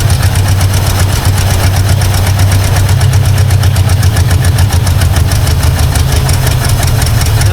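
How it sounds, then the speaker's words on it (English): A 1952 Ford Crestline engine idling rough just after revival, loud and close with a continuous uneven low rumble and faint knocking pulses, no voices. "But it is running by itself. I just gotta get the idle up."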